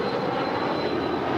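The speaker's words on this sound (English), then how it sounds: "that's NetJet 762 off to Monterey. It is a Bombardier Challenger 350." A NetJets Bombardier Challenger 350 business jet departing at dawn, a steady broadband roar with a thin high whine, close and loud throughout without talk.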